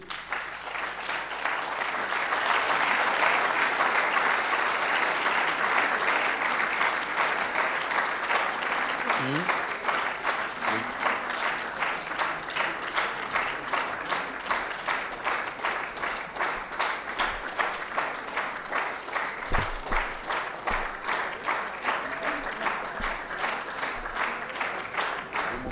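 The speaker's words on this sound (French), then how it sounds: "et on peut les applaudir" Audience applause after a choir concert for peace in Armenia, a sustained, dense clapping from a large crowd that holds steady at full strength for the whole stretch, with a few faint voices underneath.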